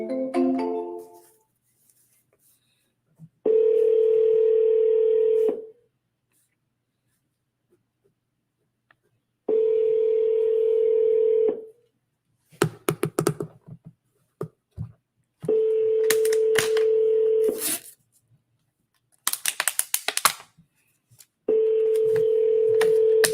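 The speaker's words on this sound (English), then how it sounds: "Let's try calling again." A telephone rings out repeatedly on a call that goes unanswered: steady tone bursts about two seconds long with pauses between them, interspersed with short clicks and dialing noises, close and loud.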